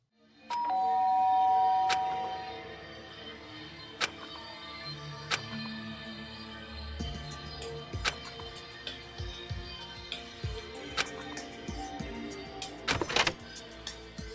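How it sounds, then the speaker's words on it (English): A two-tone electronic doorbell chimes once near the start in the video game Danganronpa 2, followed by a tense game soundtrack with scattered clicks and tones. "That night, Hajime's doorbell rings."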